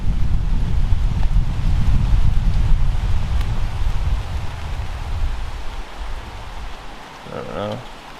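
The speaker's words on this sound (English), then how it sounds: "Oh, wind's picking up. Wind is picking up." Wind gusts through a river gorge before a thunderstorm, a loud broadband rush that buffets the microphone and gradually eases, with someone speaking briefly near the end.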